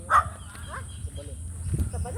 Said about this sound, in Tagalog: May mga aso nga dito.